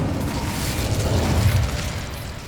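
Fire spell cast in Hogwarts Legacy, a dense whooshing burst with a low rumbling roar that swells and holds for a couple of seconds before easing off.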